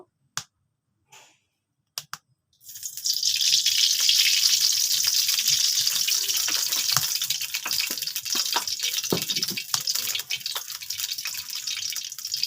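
Oil heats in a kadai on a kitchen stove: a few sharp clicks and taps, then a sudden steady sizzle that starts and continues strongly to the end.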